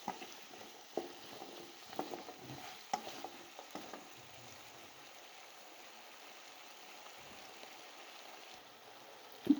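Potatoes fry in oil in a pan for aloo bhujia, making a faint, steady low sizzle with a few soft scrapes and clicks early on and a light knock at the end.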